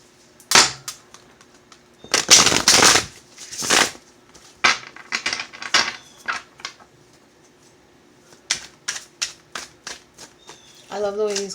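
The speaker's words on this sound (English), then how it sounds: "I love the way these cards shuffle." Tarot cards are shuffled in quick, crisp riffling bursts, with brief pauses between the rapid flutters and snaps.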